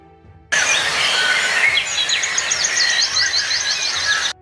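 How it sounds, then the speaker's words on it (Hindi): Birds chirp and twitter in a bright, busy morning chorus, rapid repeated calls starting abruptly and continuing steadily, close and clear without speech. "अगली सुबह चिड़ियों की चहचहाहट से"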